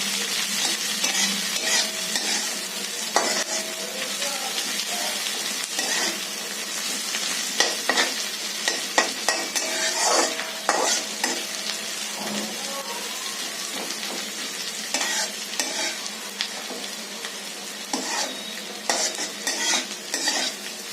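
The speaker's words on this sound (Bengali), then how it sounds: "মোটামুটি ভালো করে ভাজতে হবে যাতে কাঁচা ভাবটা চলে যায়" Tilapia masala with onions sizzles steadily in hot oil in a pan, while a spatula stirs and scrapes through it repeatedly, close and continuous, with no talking.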